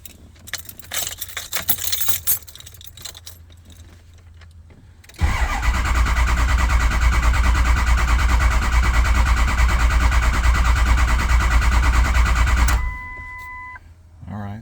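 A Ford 6.0 diesel engine cranks steadily for several seconds without catching, a loud, even churning drone that stops abruptly, preceded by keys jangling and cab noises.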